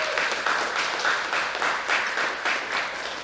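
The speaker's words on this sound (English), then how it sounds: "So let's give Dylan a big round of applause" An audience at a speaking event applauds Dylan Burrows, a steady wash of many hands clapping at an even level throughout, with no talk over it.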